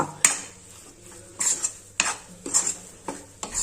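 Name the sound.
stirring and roasting flour in a pan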